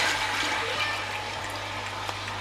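Milk pours into a pan of roux for a lamb moussaka's sauce, giving a steady, even rush of liquid that runs unbroken for a couple of seconds without talk.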